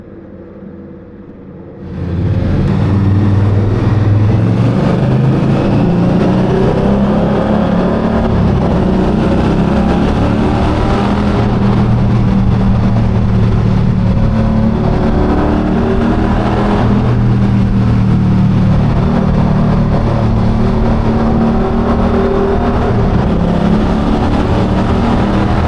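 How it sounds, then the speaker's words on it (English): A car engine with a loud exhaust kicks in abruptly and keeps roaring and revving, a deep rumbling drone heard from inside the car, loud and continuous with shifts in pitch. "Can feel my exhaust in my chest."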